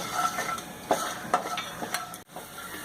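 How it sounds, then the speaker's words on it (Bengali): Whole cumin, bay leaf, dried red chillies and red peanuts sizzle hard in hot oil for a banana flower and shrimp dish, with several sharp stirring scrapes and clinks against the pan over the steady frying hiss. "লাল বাদাম তেলে দিলে একটু ফাটে থাকে, তাই একটু সাবধানে থাকলে ভালো হয়।"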